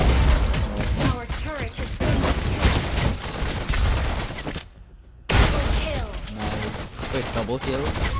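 Gunfire from the hero Lesley in the mobile battle game Mobile Legends, with dense, loud shooting and game effects that cut out for a brief gap and then resume, layered with game voice callouts.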